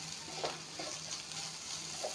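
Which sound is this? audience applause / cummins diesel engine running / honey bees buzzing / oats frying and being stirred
oats frying and being stirred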